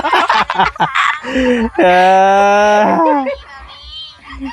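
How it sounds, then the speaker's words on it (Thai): A dog barks and yelps in a few sharp, high calls, close and loud, mixed with chatter and laughter from people nearby at a home in the evening. "โอ้ยหมากะเห่า"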